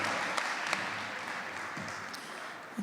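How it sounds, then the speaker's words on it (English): Faint, distant applause from the audience at a primary schools debating championship, a soft steady patter of clapping with a few sharper claps standing out. "give them a big round of applause for their bravery"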